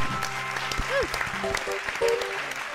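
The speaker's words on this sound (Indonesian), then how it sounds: "Tepuk tangan yang paling meriah untuk bintang tamu kita" A studio audience applauds a guest star on a Sundanese variety broadcast, clapping mixed with overlapping voices and music tones, fairly close and busy.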